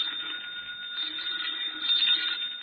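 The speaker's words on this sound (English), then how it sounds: "I think that's your phone." A telephone bell rings in an old radio drama, a continuous thin trilling ring heard alone without voices, slightly louder toward the end.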